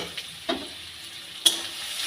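Masala with turmeric and salt fries in a pan for a Bengali chanda fish curry, giving a soft, steady sizzle broken by two sharp spatula scrapes as it is stirred. No one talks.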